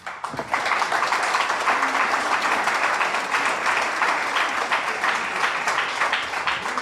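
Sustained applause from an audience at a creative arts and literature gathering, dense steady clapping from many hands that starts abruptly and continues evenly, fairly close and loud.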